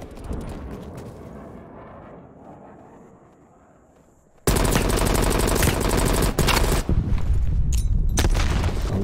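Loud, sustained automatic gunfire and explosions in the Call of Duty Cold War video game, a rapid dense barrage bursting in after a quieter stretch of game ambience and continuing near and harsh to the end.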